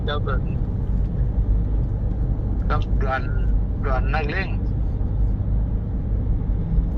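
Steady low engine and road rumble inside a car being driven, continuing beneath a person talking for most of the stretch.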